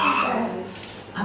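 A storyteller voices a frog's croak for children, a close, loud vocal imitation with a throaty, rasping quality that fades, then a brief low burst at the end.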